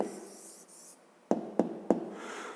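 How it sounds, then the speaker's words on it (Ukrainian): Pen writing an answer on paper in a math exercise, a soft scratchy stroke followed by three sharp taps close by, then faint rubbing. "Пишемо відповідь."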